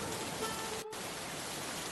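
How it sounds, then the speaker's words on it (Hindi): Rain falls as a faint, steady hiss of even wash, broken only by a brief dip partway through. "भाई रुको तो, बारिश तो धीरे हो जाने दो।"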